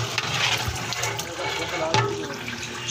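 Water pours steadily into a large cooking pot of chicken pulao being made in bulk for a religious offering, a continuous close splashing rush lasting throughout with a brief clank near the end.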